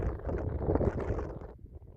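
Gusty wind buffeting the microphone, a low rumbling roar that rises and falls before easing off near the end.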